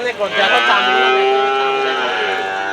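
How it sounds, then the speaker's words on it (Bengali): A 15-month-old Holstein Friesian bull calf moos loudly and close by in one long, drawn-out low call lasting a couple of seconds. "একটা হলিস্টিয়ান ফ্রিজিয়ান জাতের একটা সার গরু"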